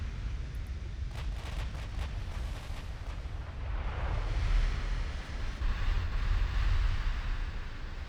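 Battleship shells striking a ship's main tower in the naval game Ultimate Admiral Dreadnoughts, a USA versus Japan battle, heard as a steady low rumbling barrage with dull booming impacts that swell louder toward the end, with no talk.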